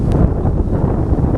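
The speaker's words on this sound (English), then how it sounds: "Wow, a little bit windy out here." Cold wind blows on a wintry Appalachian mountain trail with icy branches, producing steady, loud, low-heavy rumbling gusts that buffet the microphone with no other sound present.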